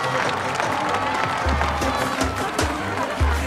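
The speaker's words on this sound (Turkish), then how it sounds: "Alkış!" A festive crowd claps and cheers at a lively gathering, steady dense applause throughout with thumping music beats underneath.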